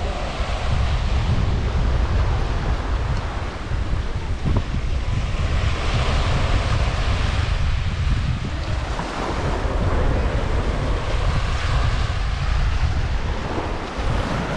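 Ocean waves break and surge at Pontal do Atalaia beach in Arraial do Cabo, a loud continuous roar of surf mixed with heavy wind buffeting the microphone.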